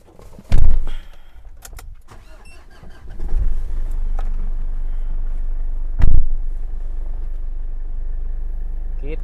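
Large diesel SUV, a Pajero or Fortuner class vehicle, with a door thump, then the engine cranking and catching into a steady low idle, close and loud, with another heavy thud midway.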